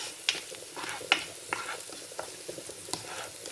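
Dried chillies, pepper and curry leaves fry in a pan with a soft continuous sizzle, broken by several light spoon scrapes and clicks against the metal, close and fairly quiet, with no voices.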